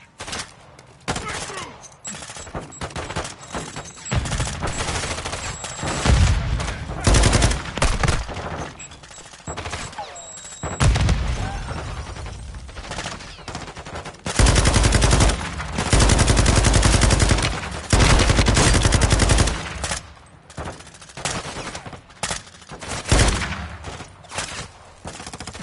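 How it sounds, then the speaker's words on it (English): Rapid automatic gunfire and repeated shots from a Call of Duty: Modern Warfare 2 campaign firefight, loud bursts in dense volleys that swell and fade over about 25 seconds, with occasional voices mixed in. "More coming, they're shooting."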